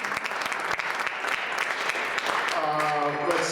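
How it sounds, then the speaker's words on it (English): An audience gives a sustained round of applause, dense and even clapping throughout, with a voice speaking over it near the end. "So give her a round of applause."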